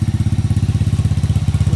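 A motorcycle engine idles with a fast, even throb while its battery charges an inverter setup, close and loud, with no voices.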